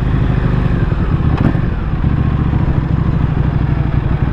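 A Buell motorcycle heard while riding, its engine throbbing loudly and continuously close up with a rumbling, pulsing tone and wind rush, no voices.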